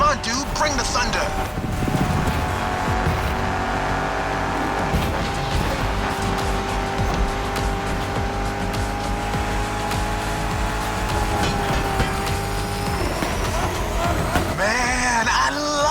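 A muscle car racing in The Crew Motorfest, its engine roaring steadily and loudly at high revs with tyre squeal and gear changes, close and continuous, with a voice and music layered underneath.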